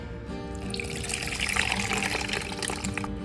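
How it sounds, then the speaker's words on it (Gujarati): Soaked black-eyed peas are rinsed under running water, a continuous close splashing flow from a tap into a bowl or sink, steady throughout. "ચોળાને આપણે 2 વખત પાણીથી ધોઈ લઈએ"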